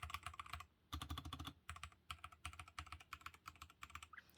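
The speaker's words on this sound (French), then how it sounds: "C'est des switches mécaniques rouges, donc voilà, c'est plutôt pas mal pour le gaming et vous allez voir le bruit." Rapid keystrokes on a white 60% mechanical keyboard with red switches come in close, crisp bursts of clacking separated by short pauses, with no talking over them.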